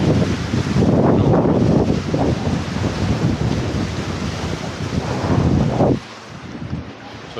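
Sea waves wash and surge in repeated broad swells, with wind buffeting the microphone, before the roar eases into a quieter hiss.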